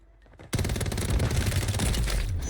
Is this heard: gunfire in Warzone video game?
yes